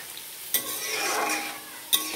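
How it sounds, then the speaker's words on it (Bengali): Water poured into a sizzling tilapia fish curry in a pan: a steady loud sizzle with a rising hiss, punctuated by two sharp clinks or splashes, no voices. "এবার আমি জল দিয়ে দেবো।"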